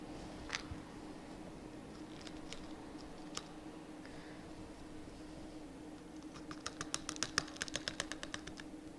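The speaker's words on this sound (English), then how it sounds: "start pouring in our wax granules" Dry beeswax granules trickle and patter in scattered bursts as they are poured, growing into a quick run of light ticking clicks near the end, close by and fairly quiet.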